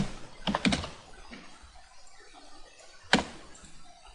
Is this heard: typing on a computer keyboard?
yes